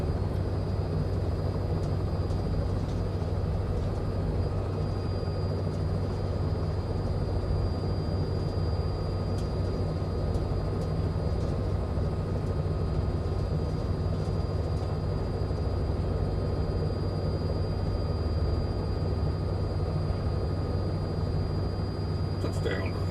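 A Robinson R66 helicopter hovers in Microsoft Flight Simulator 2024, a steady droning rotor and turbine hum with a constant high whine, continuous and even, with faint quiet talk underneath.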